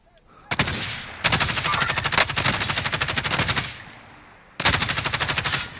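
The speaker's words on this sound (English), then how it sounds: "Yo, they're shooting at me." Long bursts of rapid automatic gunfire in Call of Duty: Modern Warfare, loud and close, with a brief pause and then another burst.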